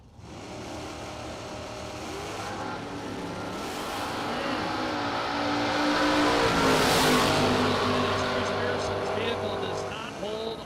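Green dragster race cars rumble and rev on a drag strip, engines swelling louder toward the middle and then easing, with harmonic roar and a public-address announcer talking over them.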